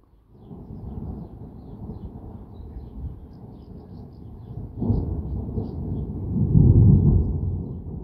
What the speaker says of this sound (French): Et pourtant, un magnifique orage est là.